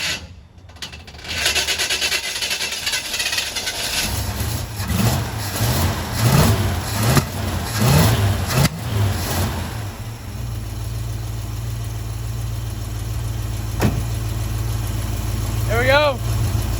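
An old car engine cranked on a jumper pack catches after a few rasping starter turns, then settles into a steady, close, rumbling idle that runs continuously.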